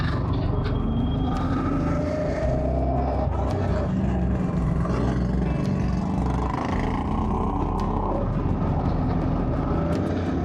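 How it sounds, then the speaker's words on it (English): Steady road traffic rolls past on a busy day, a continuous loud wash of car engines and tyre noise with occasional louder vehicles swelling by up close, and no pauses throughout. "there's a lot of traffic today"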